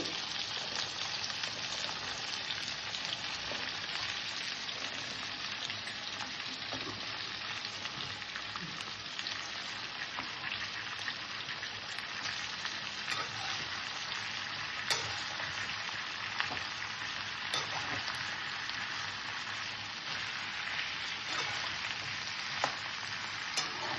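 Tomatoes and ridge gourd pieces fry in oil in a pan for ridge gourd chutney, giving a steady, dense sizzle that stays even and close throughout with no talk.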